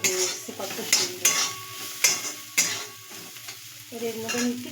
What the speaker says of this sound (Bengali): চিনি দিয়ে কিছুক্ষণ নাড়াচাড়া দেবো, একটু ঢাকা দিয়ে দেবো।